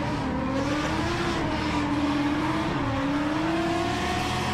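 Drift cars with RB25 and LS1 engines battle at Mallala, their engines revving and wavering loudly and close, with tyre noise mixed in and no talk.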